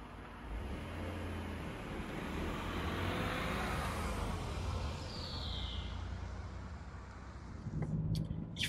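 A 2020 Renault Captur TCe 100 Experience on the move, heard from inside as a steady, fairly quiet drone of engine and road noise with a soft rising swell midway and a few small knocks near the end.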